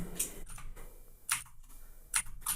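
Key presses on a computer keyboard during a Photoshop tutorial, a few sparse, close clicks spaced irregularly with quiet between them, and no talking.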